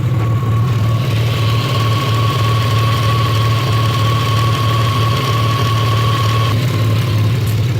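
A turbo Nissan Maxima engine with a slack timing belt idles steadily up close, a low continuous rumble with a faint rhythmic ticking and a thin whine running through it.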